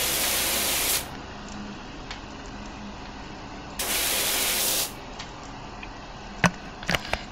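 A pressure washer fitted with a 40-degree nozzle sprays in a car-washing video game, giving two loud, broad hissing bursts of about one second each, separated by quiet, with a few sharp clicks near the end.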